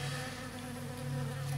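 Scout honeybees buzz steadily around empty hive boxes, a close, continuous drone with a faint wavering pitch as insects hover nearby.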